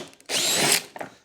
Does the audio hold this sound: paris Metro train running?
no